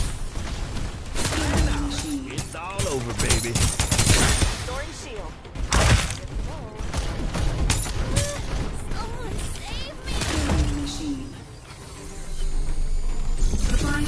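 Artillery gunfire in the Farlight 84 battle royale game, with repeated loud blasts and crashing impacts through the clip under excited game chatter.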